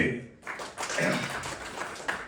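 A short ripple of audience clapping at a live mimicry stage show in Kerala, moderately loud and fairly brief, blending with hall ambience and mixed with a voice at the start.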